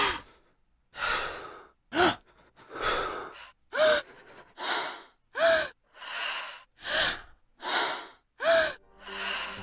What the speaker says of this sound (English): causing your character to frequently make these heavy breathing sound effects